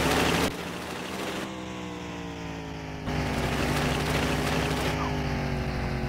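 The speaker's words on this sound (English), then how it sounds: "is that a lawnmower engine?" A small vehicle with a lawnmower-like engine drives in The Long Drive video game, its steady buzzing drone and harmonic whine shifting in pitch as it revs up, loud and close with no talk over it.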